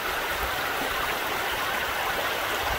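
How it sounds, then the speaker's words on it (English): A stream running down toward the ocean near a cove, its steady bubbling rush moderately close and unbroken throughout, with no voices heard. "There's the stream flowing down to the ocean, which is maybe 200 yards out."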